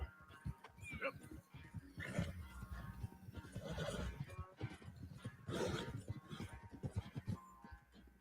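A horse in Red Dead Redemption 2 whinnies and snorts during a race amid hoof noise and voices, faint and busy, with other game sounds around it.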